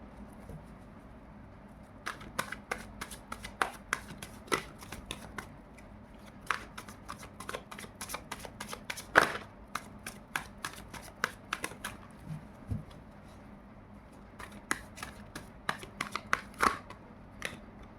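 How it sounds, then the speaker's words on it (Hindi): Tarot cards being shuffled and spilling, heard as soft, scattered flicks and taps that come in uneven clusters over a quiet background, with no voices. "इतने सारे गिर गए कार्ड्स, नहीं लेंगे, बहुत सारे कार्ड गिर गए"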